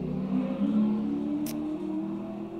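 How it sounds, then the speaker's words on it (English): A very loud car passing at slow speed, heard from indoors: a steady low engine drone with a mid-range hum that swells and eases over a few seconds, with a brief faint click partway through. "Very loud car going by that is slower than my car."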